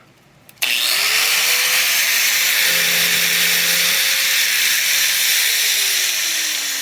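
An angle grinder powered through a 1500 W off-grid 12V-to-110V solar inverter wired to a car battery spins up with a click, then holds a loud, steady whine with broadband hiss, its pitch dipping briefly midway before running on alone.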